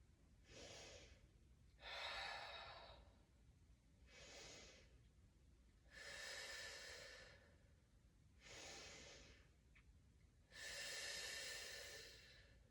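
Slow, deep breaths during an advanced workout, six drawn-out breathy inhales and exhales in a steady rhythm about two seconds apart, close and soft with no talking.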